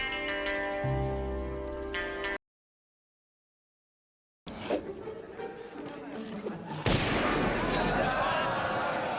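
Gunfire in the Sea of Thieves video game comes as a series of sharp shots. Game music plays first, then a pause of silence, then louder overlapping blasts and rattles toward the end.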